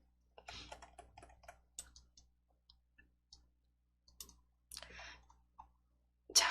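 Computer mouse clicks while code blocks are copied and pasted in an Entry coding editor: sparse, quiet single and clustered clicks with short gaps between them, close and isolated.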